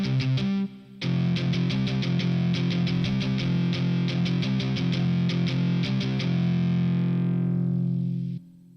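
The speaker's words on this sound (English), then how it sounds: "So we just listened to the 8180 Monster Tube" Electric guitar played through an 8180 Monster Tube amp model on a heavy metal preset: a sustained, heavily distorted chord, then a fast run of chugging palm-muted notes ending on a long ringing chord that fades out.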